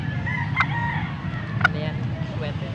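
Roosters in Angeles, Pampanga crow twice in quick succession, fairly clear above a low steady background hum.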